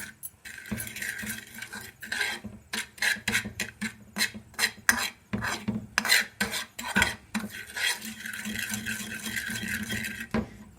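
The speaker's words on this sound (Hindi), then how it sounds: "इसको इसी फ्लेम पे आपने भूनना इस तरह से है कि बस ब्राउन कर देना" Semolina (suji) is roasted in a pan over a flame, with a utensil scraping and clinking against the pan in repeated close strokes, irregular in rhythm, clear and fairly loud without speech.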